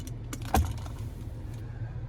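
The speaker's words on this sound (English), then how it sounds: "here we have the key fob with remote start." The key fob of a 2024 Chevrolet Silverado 2500HD LTZ jangles briefly up close, with one sharp metallic clink standing out among a few lighter rattles over faint background hum.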